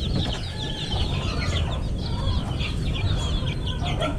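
Dumpo Basilan Cross stag chicks, nearly a month old, cluck and cheep steadily at close range, a dense chorus of overlapping peeps filling the whole few seconds.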